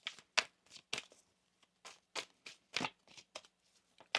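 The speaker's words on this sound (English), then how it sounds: "One more shuffle here." Quick, crisp riffling bursts of tarot cards being shuffled, a dozen or so short flutters in an uneven rhythm, close and fairly quiet.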